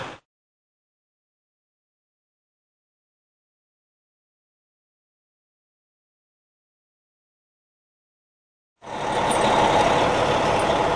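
A truck pulls off while towing a vehicle fitted with one set of AutoSock fabric snow socks, the pulling truck having chains on its drive wheels; a steady, fairly loud engine and road rumble starts abruptly near the end after long silence.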